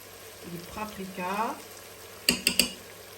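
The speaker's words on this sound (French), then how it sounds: "On va tourner, mélanger les épices et la couleur de la viande." Spiced meat with paprika sizzles in a frying pan while a spoon scrapes and stirs it, ending in three quick metallic clinks against the pan, with a voice talking briefly over the quiet frying.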